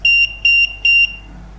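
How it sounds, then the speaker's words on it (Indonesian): A pure sine inverter's Arduino Nano protection circuit sets off a piezo buzzer: three loud, shrill beeps in quick even succession, followed by silence. "output SPWM dimatikan dan buzzer berbunyi beep 3 kali, kemudian jeda 1 detik, terus berulang"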